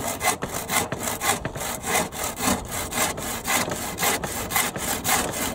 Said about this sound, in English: Just going to try and cut this on here, on the table, using a good old rip saw.